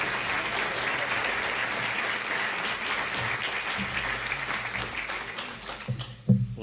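An audience applauding to welcome speaker Norman Augustine at a lecture on post-Cold War economies, dense sustained clapping that holds steady and then thins out near the end.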